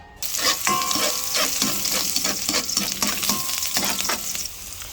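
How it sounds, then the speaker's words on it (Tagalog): Liver sautéing in a hot pan for chopsuey, a loud steady sizzle broken by repeated scraping stirs of a utensil against the pan, close and with no talk. "Igisa natin yung atay natin."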